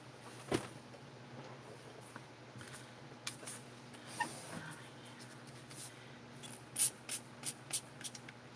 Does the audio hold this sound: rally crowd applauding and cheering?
no